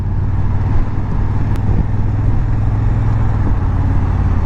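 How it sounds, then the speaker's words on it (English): Continuous low traffic noise surrounds a rider on the morning commute in the dark, engines and tyres blending into a steady rumble, with a faint brief higher tick partway through. "Traffic is not too bad."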